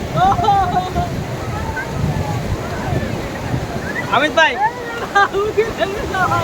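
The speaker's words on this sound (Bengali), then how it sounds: "ঢেউটা আসছে কিন্তু খুবই অসম" Sea surf rolls onto a crowded tourist beach at Digha, a steady low wash mixed with wind buffeting the microphone, while people talk over it throughout.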